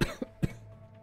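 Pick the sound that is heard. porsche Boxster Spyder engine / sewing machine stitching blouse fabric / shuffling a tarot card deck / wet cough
wet cough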